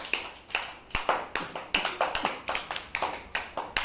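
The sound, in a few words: children clapping for a classmate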